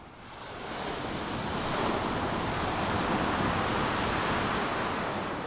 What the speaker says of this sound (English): Just every now and again you get one of these big breakers come in.